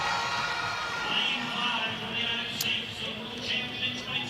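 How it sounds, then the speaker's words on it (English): A Jamaican stadium crowd cheers for 400m runner Roshawn Clayton, a broad, steady roar with scattered whoops and shouts rising over it, sustained throughout and fairly distant. "Clayton got a great cheer"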